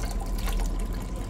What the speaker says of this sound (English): And here I just added some water to get the rest of the liquid out.